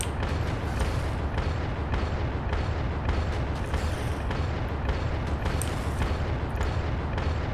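In the video game Factorio, a gun fires at enemies in a dense, continuous barrage of booming blasts that blur into a heavy rumble, loud and steady throughout with no talking.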